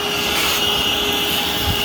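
A Craftsman 20V wet/dry vac set to blow air, giving a steady, loud, close whooshing motor roar with no break.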